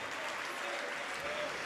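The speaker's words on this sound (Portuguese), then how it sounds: "E vamos aplaudir ao Senhor Jesus por cada vida que está chegando." Congregation applauding during a church service, a steady broadband wash of clapping with no gaps, moderately quiet and somewhat distant.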